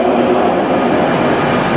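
A TransPennine Express train rumbles at a railway station on the Strines line, a loud, steady low roar with no breaks across the short stretch and no talk.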